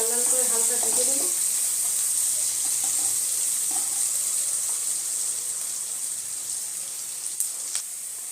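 Onion and garlic with turmeric frying in a pan for a Bengali sem bharta, giving a steady hiss that stays level throughout, with a brief voice early on and a couple of small clinks near the end.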